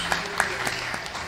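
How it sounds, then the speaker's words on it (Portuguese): Church congregation applause during a Feast of Trumpets service: a few scattered claps with light crowd noise over a steady low hum, fairly soft and brief. "Vamos dar uma salva de palmas para Jesus."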